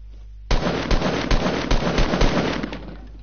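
Pistol gunshots in the video game Fortnite, a sudden onset of repeated sharp pops in an irregular volley over a constant dense crackling bed, loud and close.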